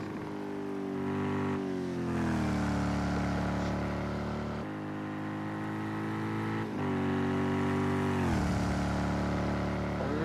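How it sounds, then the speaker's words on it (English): A Ford GT GTE race car in a racing video game at the Nürburgring Nordschleife drones loudly at high revs, its engine pitch climbing and dropping sharply at several gear changes across the run. "The Ford GT can be quite drony at the higher RPM and top speeds of the car"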